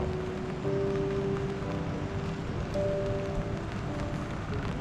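Steady rain falls at Khao Yai in Thailand during the rainy season, a dense even hiss that runs without a break beside the breakfast area of a resort, with a faint tonal hum held underneath.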